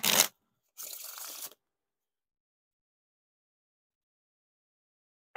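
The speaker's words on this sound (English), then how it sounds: "they still work for bridge shuffles and riffle shuffles here" Thin, bendy Bicycle Glider Back playing cards are riffle shuffled in two quick bursts of fluttering, crisp card noise, the second lasting under a second, followed by silence.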